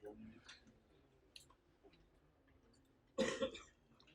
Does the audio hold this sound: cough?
yes